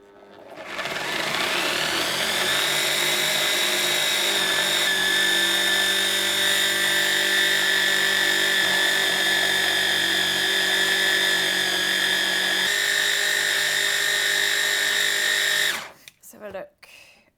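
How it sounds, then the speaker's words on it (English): A blender whirs loudly while blending a chocolate hazelnut mixture with cocoa powder, a steady high-pitched motor drone running continuously for about fifteen seconds before abruptly stopping with a short clatter. "Get your blender."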